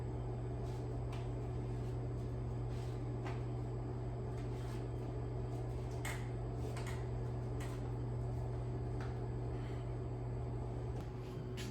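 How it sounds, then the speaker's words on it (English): A steady low microwave oven hum drones on continuously while heating tortillas on a plate, with faint scattered clicks and knocks over it. "put them on a plate and microwave for 30 seconds"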